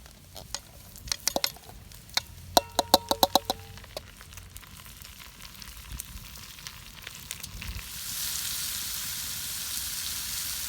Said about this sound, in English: We drained the bacon, and I've added in the vegetables now. We're going to let this cook for just a few minutes.